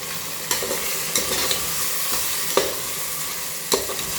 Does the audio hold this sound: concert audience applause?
no